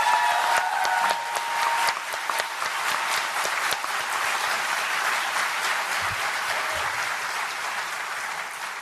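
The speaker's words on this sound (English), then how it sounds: "please join us in giving her a well-deserved round of applause." Sustained applause from an audience at a Georgetown University exoneree showcase, steady dense clapping filling the hall for several seconds without talk.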